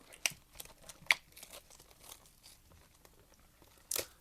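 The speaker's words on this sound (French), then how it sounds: "arrête de pleurer, Jay, ouvre des cartes" Panini basketball trading card packs being opened, with sharp crinkling foil wrapper bursts near the start and again near the end, separated by quieter rustling and handling, close to the mic.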